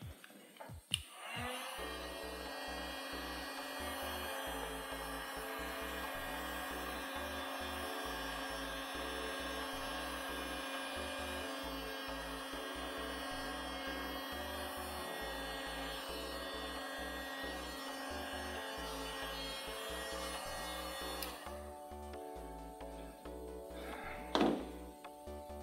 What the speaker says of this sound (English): Push it just a little bit more with the heat gun